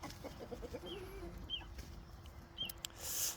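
A boss rooster crows at dawn in a backyard chicken coop, a single drawn-out call over scattered clucking and bird chatter, fairly faint with steady background noise.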